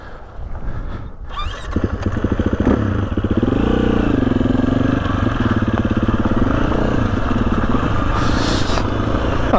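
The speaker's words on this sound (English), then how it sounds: "there's another bike somewhere coming over" A motorbike on a dirt trail along Old Coach Road comes in with a rising engine drone. It holds a loud, steady, revving hum close by for most of the stretch.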